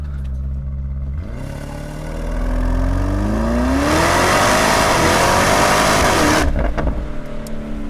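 Porsche Cayenne Turbo GT engine pulling hard under full acceleration, a rising whine and roar climbing through the revs toward about 5000 rpm, loud and steady, then cutting off abruptly near the end.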